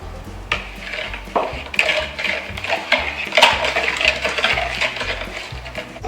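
Butter and sugar being stirred together in a bowl for blueberry muffin batter, with steady close scraping and clinking of a utensil against the bowl in irregular repeated strokes.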